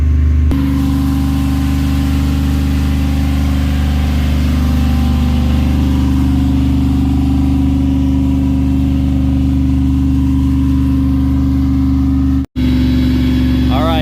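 A 2001 Dodge Ram 5.2L Magnum engine idles steadily with a deep, even hum during an engine cleaning treatment, briefly cutting out for an instant near the end before resuming.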